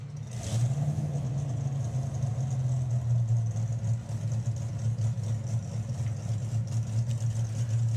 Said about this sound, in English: They start them on methanol, and then you'll hear them change from a burble to a cackle